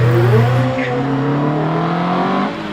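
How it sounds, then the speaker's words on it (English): A Fisher Fury kit car with an 893cc motorcycle engine accelerates hard up a hillclimb course, its loud, high-pitched engine note rising steadily through the gears close by, with no one talking. "Sounds like a bike engine in the Fisher Fury."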